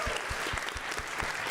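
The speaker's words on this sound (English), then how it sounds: "let's give a massive round of applause for Dallin really quick" A boot camp audience gives a short burst of applause, a brisk dense clatter of clapping hands from a crowd close by with no talking.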